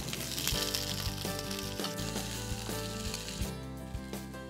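Vinegar hisses into a hot pan of crisp chicken wings, a steady loud sizzle with low thumping tosses recurring about once a second, no voices.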